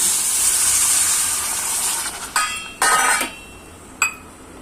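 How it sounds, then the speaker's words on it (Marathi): A steady hot-pan sizzle hisses throughout, flaring into a few louder bursts as milk hits the pan, with a faint clink near the end. "आता ह्याच्यामध्ये आपण दूध घालूया."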